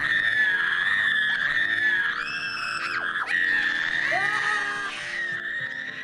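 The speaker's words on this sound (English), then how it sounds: "students let loose with a simultaneous, unbridled, lung-shattering scream as they prepare for final exams" A crowd of college students lets out a simultaneous primal scream before final exams, a sustained, loud wall of shrieks and yells with individual voices sliding up and down over it.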